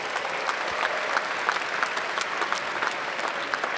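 Audience at a Kansas State University new student convocation breaking into sustained applause, a dense, steady wash of many hands clapping with no voices rising above it.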